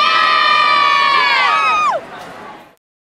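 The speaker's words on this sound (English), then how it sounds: "Crowd giving the team a big round of applause as they come back on the court" A basketball crowd cheers and applauds on a festive senior day as the team returns to the court. The roar is loud and sustained with a strong tonal shout over it, then drops sharply and trails away to silence.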